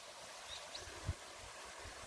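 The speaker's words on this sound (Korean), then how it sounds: "계곡에 물이 흐르는 소리 들리십니까?" Stream water flows through a wooded mountain valley below a walking path, a faint steady rush heard from a distance with a soft thump partway through.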